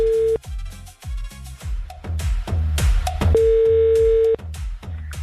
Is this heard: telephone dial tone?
yes